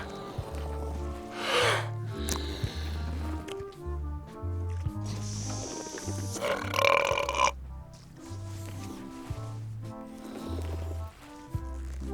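Burping contest in the adventure game Return to Monkey Island: a string of long, loud, wet cartoon belches, one after another, over a bouncy plucked music loop with no speech.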